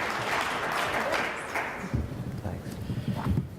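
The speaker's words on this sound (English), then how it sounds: "Let's give them a round of applause, please." Audience at a business conference panel clapping, a sustained burst of applause that thins into scattered claps, with a voice talking underneath toward the end.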